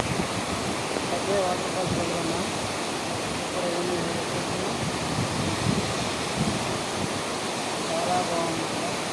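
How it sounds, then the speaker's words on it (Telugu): Continuous roar of Hebbe waterfall in Karnataka, a dense unbroken hiss of cascading water with faint voices from people nearby mixed underneath. "దీని పేరేమే హెబ్బే వాటర్ ఫాల్స్."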